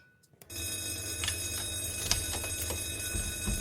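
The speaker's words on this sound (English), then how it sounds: "That's the fire alarm." A fire alarm rings steadily indoors after a brief silence, a continuous metallic bell-like ringing that holds at a constant level throughout.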